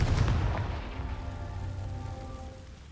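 The Confringo fire spell cast in the video game Hogwarts Legacy: a heavy, explosive boom that breaks at once, followed by a fading, ringing magical tail over a few seconds.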